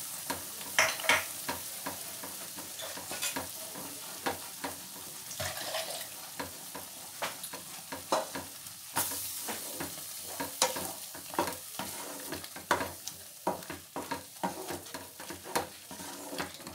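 Spices for shahi paneer masala, including coriander powder and turmeric, fry in a pan with a steady close sizzle. A spoon stirs and scrapes through it in frequent quick strokes.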